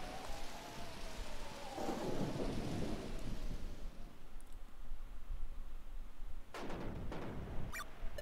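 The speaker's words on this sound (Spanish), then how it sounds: "Oh, vaya menuda tormenta." A thunderstorm in a sky-explorers video game: steady heavy rain with a rolling thunder rumble early on, followed by sharper thunder cracks near the end, with no talking.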